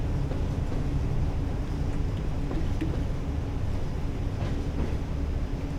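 A British Rail Class 86 electric locomotive in a train simulator game on the West Coast Main Line passes as a steady low rumble with faint rail clicks, a continuous mechanical drone with no speech.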